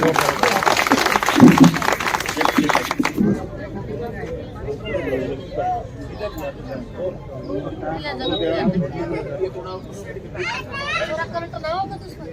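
Applause rises from an audience at a BJP women and youth political meeting in Barwala. The clapping is loud and dense for about three seconds, then fades into crowd murmur and an amplified speaker talking.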